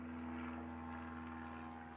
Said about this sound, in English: Low flying planes.